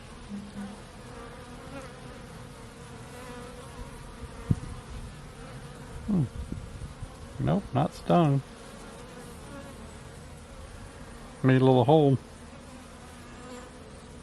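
A honeybee swarm hums and buzzes steadily, with louder bursts of individual bees flying close by, while someone speaks briefly near the swarm.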